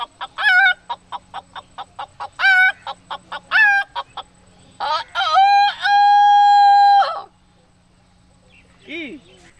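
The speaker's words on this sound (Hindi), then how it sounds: "अच्छा तो हमें मुर्गा का सुना दी।" A rooster clucks in a run of short, loud bursts, then gives one long, drawn-out crow close by, followed by a faint chirp. No one speaks.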